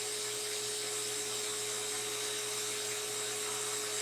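A dental lab handpiece ditches a stone die, a steady high-pitched electric whine that holds constant and close with no pauses or talk.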